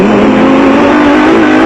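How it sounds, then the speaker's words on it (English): Jimco off-road race car engine at an off-road race in Mafikeng, South Africa, running loud and close in a steady high-pitched drone with no speech. "The Thornbay Creeks Jimco sounded sweet in the crisp morning air."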